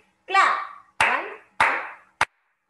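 Children in a playgroup numeracy lesson clap and snap along while counting, four distinct bursts in a row, the first longer and mixed with a voice, the last short and sharp.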